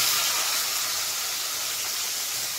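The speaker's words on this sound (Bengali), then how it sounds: "এটাকে আমি এরপরে কেটে রাখা পেঁয়াজগুলোকে আমি এই গরম তেলে ছেড়ে দেব" Sliced onions go into hot oil in a home kitchen and fry with a loud, steady sizzle and hiss that fills the whole moment with no talking.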